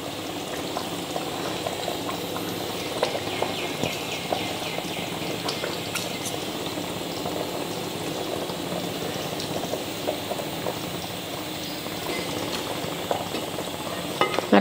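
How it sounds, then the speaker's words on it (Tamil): Fish curry boiling in a pot on the stove, a close, continuous bubbling and popping with occasional stirring clinks, no talking. "பாருங்கள் நல்லா கொதிக்க ஆரம்பிச்சிருச்சு."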